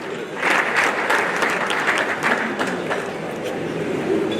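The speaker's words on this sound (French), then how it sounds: "sous vos applaudissements, nous invitons sur scène la vice-présidente du MEDES, Madame Ndeye Awa Mbaye." A hall audience at an award ceremony applauds steadily, dense clapping from many hands that fills the space and holds at a constant level throughout, with faint voices underneath.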